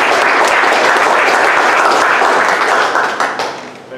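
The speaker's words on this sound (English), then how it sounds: "Let's go ahead and give these guys a warm round of applause." Loud, sustained applause from an audience at a blockchain and business meetup, dense clapping that fills the room before fading out toward the end.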